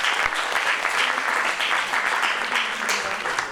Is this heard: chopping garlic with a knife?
no